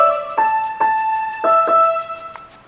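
Single piano notes from a beginner lesson tune play one at a time in a slow, halting sequence, each struck clearly and ringing briefly before the next, with no talk over them.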